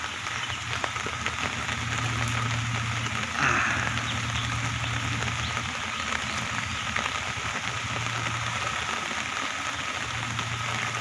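Steady rain falls in the morning near a riverside, a dense, even hiss of drops on surfaces holding constant throughout with a low hum underneath and no voices.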